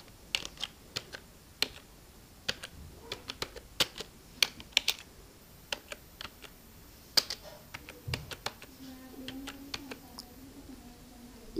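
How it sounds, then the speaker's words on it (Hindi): Someone typing on a computer keyboard in a quiet room, soft irregular clicks and taps with short pauses, fairly faint and close. "जैसे मैं अपनी एकेडमी का नाम लिखती हूँ"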